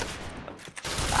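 Gunfire in a shooting video game, a short burst of rapid shots that drops out briefly then resumes as a dense crackle, close and moderately loud.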